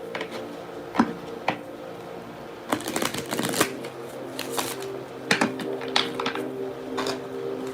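Tarot cards shuffled by hand in short, sharp riffling bursts with brief pauses between them. The sound is close and fairly crisp, with no talking over it.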